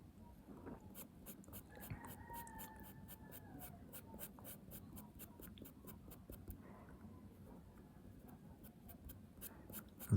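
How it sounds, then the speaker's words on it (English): An eraser rubs over pencil shading on paper in quick, repeated short strokes, close but faint, with a quiet room hum underneath. "take an eraser, then you erase around this point"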